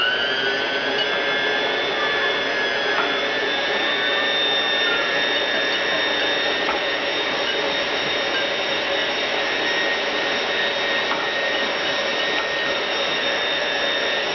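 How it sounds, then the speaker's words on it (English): An electric hand mixer runs steadily at high speed, beating boxed cake mix with water in a pan, a continuous whining motor hum that holds constant and close throughout, with no talking. "And I'm going to beat for about 2 minutes on low and then on high and medium."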